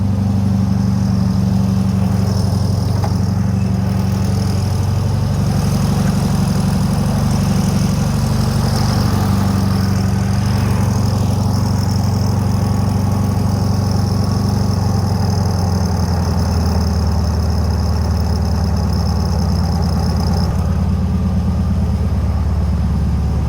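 A 1976 VW Super Beetle with running issues idles steadily, a loud, close, low mechanical drone that runs unbroken for the whole stretch while the idle speed is adjusted downward.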